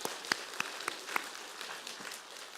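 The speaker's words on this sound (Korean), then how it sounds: "하나님께 우리 감사의 영광의 박수 한번 올려드릴까요?" Church congregation at a Sunday worship service applauding, a light, even patter of many hands with a few sharper nearby claps standing out early on, moderately quiet.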